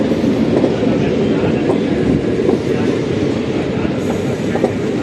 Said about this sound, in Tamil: ரயில் நிலையத்துக்கு நுழைஞ்சிட்டோம்